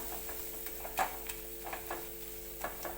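Masala frying in oil for a drumstick (shevga) curry, a soft, steady sizzle with faint scattered ticks and a few light scrapes of stirring, fairly quiet and without talk.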